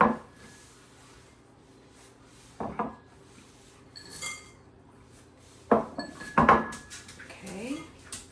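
Dry baking ingredients are mixed in a bowl, with sparse clinks and taps of a utensil against the bowl and a few scraping knocks, fairly quiet in a kitchen.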